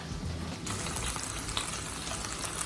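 Shrimp go into a hot pan with garlic and burst into a loud, bright sizzle that starts abruptly and keeps crackling steadily to the end, with no talking.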